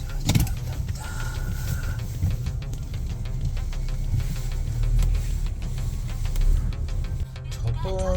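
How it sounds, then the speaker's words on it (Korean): A car pulls up to make a pickup, a low idling engine rumble heard from inside a vehicle, with faint clicks and shifting noises over the steady hum. "전에 픽업을 왔던 차하고는 다른 차가 왔습니다."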